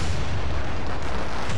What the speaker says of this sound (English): deposit firecrackers in the mine?